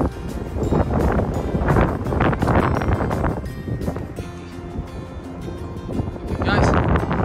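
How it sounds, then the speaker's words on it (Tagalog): Gusting wind blows outdoors near a Las Vegas resort casino, rumbling in surges against the microphone while people talk nearby. "It's still windy out here."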